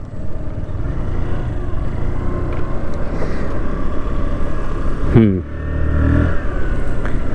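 Hero Xoom 110 scooter being ridden, its small engine droning steadily up close with a brief rise in revs partway through, while someone talks over the ride.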